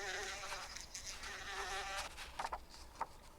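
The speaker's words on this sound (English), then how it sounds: "Let's be fuzzy, buzzy bees and buzz." Bee buzzing sound effect in a read-along children's book, a steady insect drone holding throughout at moderate loudness with a few brief rises near the end, no voice.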